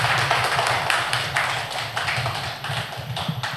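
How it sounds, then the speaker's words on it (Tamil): Strong, sustained applause from an audience at a Tamil astrology lecture, honouring the elderly speaker; dense, continuous clapping with steady loudness and no talk. "ஐயா அவர்களுக்கு ஒரு பலத்த கரகோஷத்தை கொடுக்குமாறு கேட்டுக்கொள்கின்றோம்."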